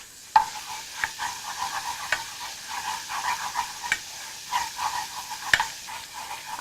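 Garlic frying gently in a wok or pan over a low flame, with a soft, steady sizzle and intermittent light clicks and scrapes of a spatula, fairly quiet and close.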